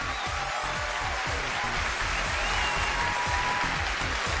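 Audience applause greeting a couple introduced on a televised dating show stage, continuous and even throughout with a faint rhythmic thumping underneath, no voices over it.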